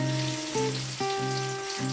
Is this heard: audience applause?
no